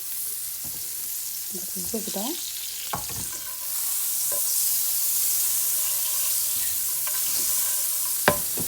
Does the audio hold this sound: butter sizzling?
yes